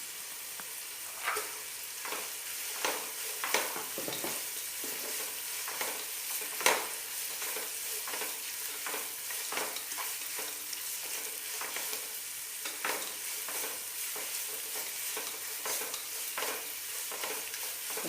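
Chopped carrots and green peas sauté in a pan for ghee rice, a steady soft sizzle broken by repeated scrapes and clinks of stirring, close and even throughout with no voices.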